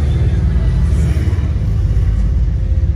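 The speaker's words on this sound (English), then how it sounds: "Sorry, we're on a busy street." Traffic on a busy street rolls past as a loud, steady rumble of cars and engines. It fills the whole moment at close range.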